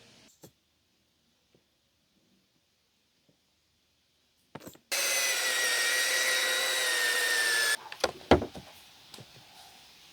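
After near silence, a close electric buffer whines steadily for about three seconds while polishing scratches out of a car windshield, then cuts off, followed by a few handling knocks and clatters.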